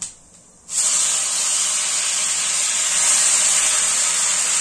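Cumin seeds and masala paste hit hot oil in a pan for a Marathi-style vangi (brinjal) bhaji, starting with a sudden loud, steady sizzle and hiss after a brief quiet moment, then holding strong and unbroken to the end.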